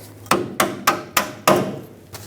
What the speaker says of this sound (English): Tap the bolt out.